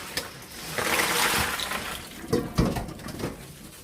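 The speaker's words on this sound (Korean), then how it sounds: "폭포처럼 씻어주겠습니다" Cold running water splashes and gushes over cockles, with rattling clatter as they are rinsed, loud and close with no speech.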